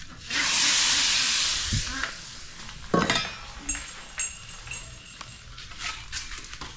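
Ararawan and salted eggs are fried in a pan: a loud burst of hissing sizzle opens the sound, then settles into quieter frying under clinks and scrapes of a utensil against the pan.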